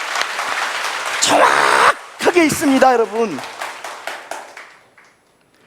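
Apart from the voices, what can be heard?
audience clapping hands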